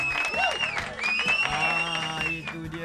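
Classroom group of children applauding the winning team in a Malay language lesson, a short burst of clapping with tonal music and voices layered over it.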